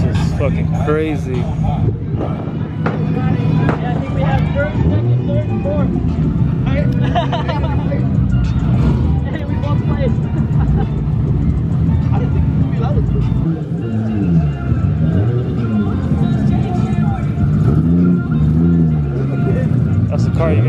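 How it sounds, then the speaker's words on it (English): A Toyota Supra engine revving amid a busy crowd gathering, throaty rising and falling revs repeating over a constant din of chatter and other car noise. "it's the same Supra that's revving right now"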